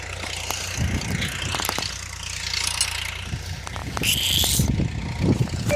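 A Swaraj tractor engine idles with a low, steady throb, broken by scattered clanks and knocks nearby.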